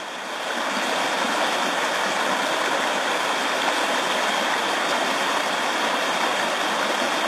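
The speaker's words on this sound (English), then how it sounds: "Standing here in the middle of the river." The South Umpqua River rushes around someone's feet while they stand midstream, a loud, close, unbroken roar of flowing water with no voices.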